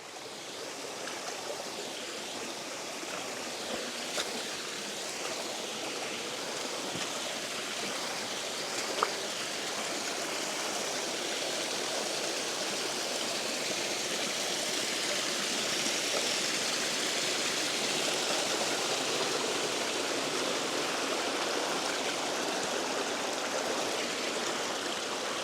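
Water from new springs runs steadily after heavy rain on a rural Portuguese property, a continuous close rushing and trickling stream sound with no talk, holding even for the whole stretch.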